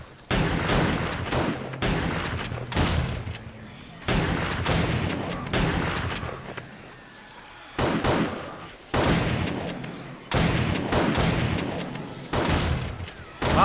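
Repeated bursts of video game gunfire from 7 Days to Die, fired at zombies. Several loud clusters of rapid shots with short pauses between them, close and dominant over a steady game background.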